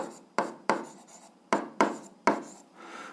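Pen or pencil strokes on paper while working an 8th-grade algebra exercise: six crisp, scratchy writing bursts, each starting sharply and fading, spaced irregularly with brief pauses between.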